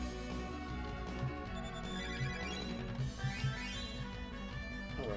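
A phone rings with a repeating electronic ringtone melody against steady background noise during a Romancing Saga 3 game session, fairly faint and with no one talking over it.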